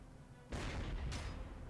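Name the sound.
anti-aircraft guns firing at tanks in video game Panzer Corps 2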